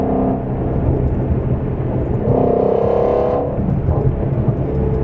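A Ford Mustang GT350 fitted with a Corsa double X-pipe and resonator delete revs in second gear, its loud exhaust rumbling close by, swelling into a brief rising rev midway and then settling back.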